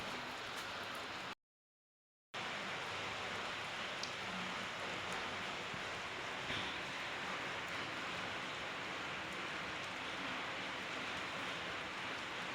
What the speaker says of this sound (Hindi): पहले मैं आपको बाहर दिखाती हूँ कि बारिश अभी भी लगी हुई है।